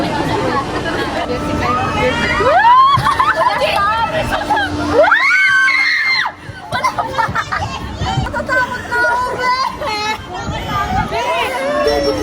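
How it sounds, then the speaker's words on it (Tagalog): A group of people, children among them, shouting and whooping together outdoors, with loud overlapping rising yells, excited chatter and a brief dip before the shouting resumes. "Pwede rin tayong sumigaw."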